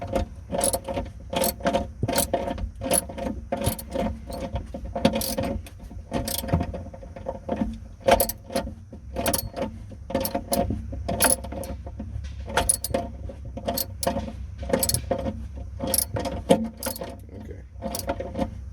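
A ratchet tightens the battery hold-down bracket on a BMW 550i in rapid, regular metallic clicks that repeat steadily throughout, close and crisp over a low background hum, with no talk.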